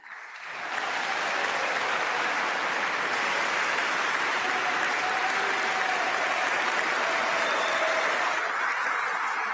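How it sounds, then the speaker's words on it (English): A standing ovation in Oslo City Hall at the Nobel Peace Prize ceremony, rising quickly into loud, sustained applause from a large assembled audience that holds steady and dense to the end. "A standing ovation and 5 minutes applause from the assembled guests here in Oslo City Hall."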